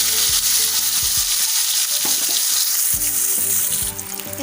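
Fish frying in a pan over a medium gas flame, a loud, steady crackling sizzle with a few spatula scrapes and no talking.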